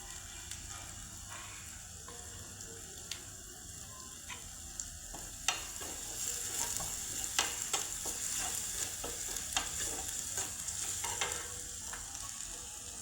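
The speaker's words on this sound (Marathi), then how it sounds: "ग्रेव्हीला कलर येण्यासाठी आपण लसणाचा आणि मिरचीचा तडका टाकत आहे." Garlic and green chilies tempering in a pan for a cashew curry, a steady soft sizzle with scattered crackles and pops and occasional stirring clicks, no voices.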